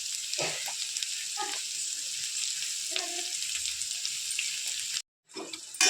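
Cabbage and other vegetables sautéing in a pan with a little salt, giving a steady bright hiss with a few faint knocks, close by, cut off briefly by a gap of silence near the end before resuming.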